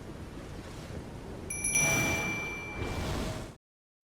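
A bright, thin bell ding used as a subscribe notification effect rings out once and hangs briefly over a soft, washing background before cutting to silence.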